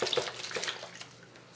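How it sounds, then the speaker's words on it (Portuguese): A hand is rinsed under a running tap after washing with homemade coconut liquid soap, giving a steady close splashing of water. "Vamos enxaguar aqui que ele ainda tem água."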